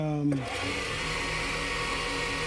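A wood lathe spins at medium speed, around 2800 RPM, while a Sierra Steampunk pen blank is sanded, giving a steady close whirring drone that runs unbroken and is joined at the start by a brief voice.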